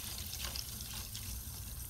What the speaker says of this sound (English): You can hear the water rushing in right now.